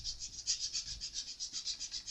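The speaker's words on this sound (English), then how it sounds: "Let the actual sanding pad get on it and do some work." Sanding pad leveling the frets of an Epiphone Les Paul guitar, with steady rhythmic back-and-forth rasping strokes, about eight per second, close up and on their own.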